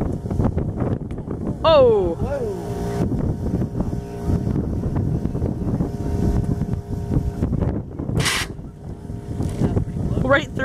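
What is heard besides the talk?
wind blowing into the microphone outdoors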